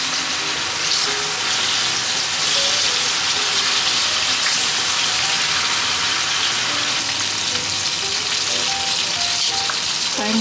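Chicken breast fries in a pan on a stove over medium heat, giving a steady, dense sizzle with occasional pops and light crackles throughout, and no talking.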